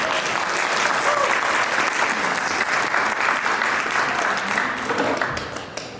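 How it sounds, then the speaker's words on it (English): A crowd claps loudly and steadily for several seconds before the applause begins to taper off. "Round of applause"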